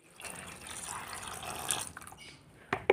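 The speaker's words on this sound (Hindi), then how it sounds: "एक मुट्ठी मटर के छिलके और उसमें डाल देना है एक लीटर पानी" A litre of water poured onto a handful of pea shells, heard as a soft, steady liquid splash and trickle close by, ending with a few sharper drips and knocks.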